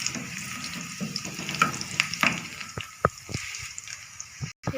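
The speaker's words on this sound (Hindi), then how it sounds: "इसको हम फ्राई कर लेंगे।" Garlic with garam masala frying in hot oil, a soft, crackling sizzle close by, broken by stirring scrapes and clinks of a utensil against the pan.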